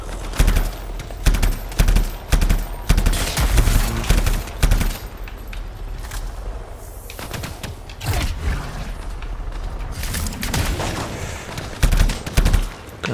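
Gunfire from weapons in the video game Anthem cracks out in rapid bursts and volleys, loud and close, broken by short pauses and mechanical clanks, with no talking.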